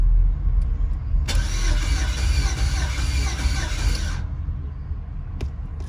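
A swapped 5.3 LS V8 with 243 heads and an LS6 intake fires for the first time in a G-body El Camino: a cranking burst catches into a loud, rough running roar for about three seconds, then cuts back to a lower rumble.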